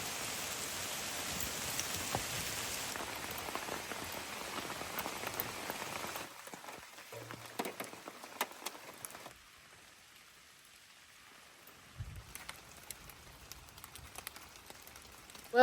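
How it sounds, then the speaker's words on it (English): Steady rain patters on a camper awning, dense and continuous at first, then softer and sparser with occasional drips, no talking. "but it is raining now"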